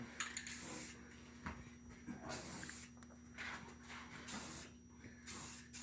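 Aerosol clear coat sprayed over VHT Nightshades tint on a 2004 Duramax truck, a faint hiss in several bursts separated by short pauses, with light clicks and clatter, no talk.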